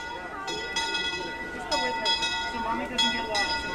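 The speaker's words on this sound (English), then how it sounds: "It's coming down the tracks. Oh yes, that iconic bell." A train bell clangs repeatedly at an uneven pace over a dense background rumble and crowd murmur at Disneyland, ringing out at moderate distance.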